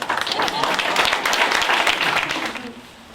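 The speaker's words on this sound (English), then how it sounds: "A round of applause for her." An audience at a 2015 graduation ceremony claps briefly in quick rough bursts for a graduate's pregnant wife, the applause dying away as a voice comes in at the end.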